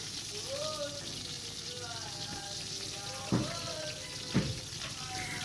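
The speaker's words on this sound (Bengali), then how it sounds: "পটলগুলো নুন আর হলুদ মাখিয়ে রেখেছিলাম এবার তেলের মধ্যে সব এক একে দিয়ে দেবো" Salted, turmeric-coated pointed gourd slices fry in hot oil with a steady soft sizzle, punctuated by a couple of brief louder clatters as pieces go into the pan.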